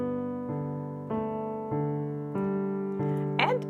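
Piano chords sound with a repeating left-hand arpeggio underneath. Evenly spaced notes strike about twice a second and ring into each other, quiet and close, with a brief brighter accent near the end.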